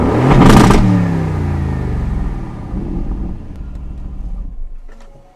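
An expensive car's engine revs hard to a loud, deep roar, then settles into a falling, burbling rumble over several seconds, heard up close with wind noise and no talk.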